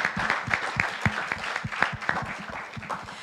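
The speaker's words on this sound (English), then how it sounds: "Let's give our Pathfinders a round of applause." Audience at a Pathfinder club induction service gives a steady round of applause, crisp individual claps heard up close.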